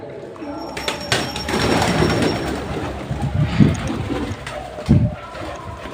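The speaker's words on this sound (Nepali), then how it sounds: "गाइस परेवा भोकै भएर यहाँ चामल हालेको हैन खाइरहेछ मस्त" Pigeons cooing and pecking at scattered rice outdoors, with low murmuring coos and soft scuffling through the clip and a couple of louder bursts near the end.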